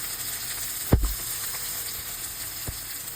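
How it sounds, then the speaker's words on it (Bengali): Chopped onion with a bay leaf sizzles in mustard oil with a soft, even hiss, punctuated by one sharp utensil knock and a lighter tap later. "তেজপাতা দিয়ে একটু নাড়াচাড়া করে দিয়ে দেবো পেঁয়াজ কুচি।"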